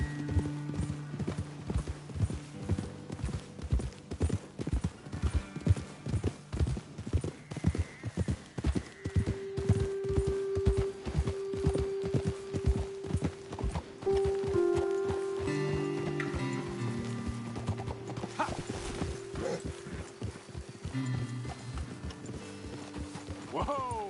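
Horses ridden in a PS4 video game, hooves clip-clopping in a steady rhythm that slows and stops, with a whinny and game music, under voices talking.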